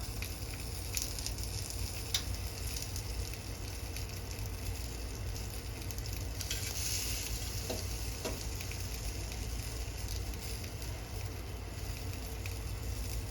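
Steady sizzling and frying crackle of salted mackerel grilling in an electric pan, continuous and fairly close with occasional faint ticks.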